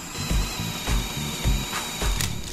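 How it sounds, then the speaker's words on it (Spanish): A Bosch 12V brushless heavy-duty drill bores into material, its motor whirring in pulsing bursts roughly every half second, close and moderately loud, with no talk over it. "Es un taladro muy potente."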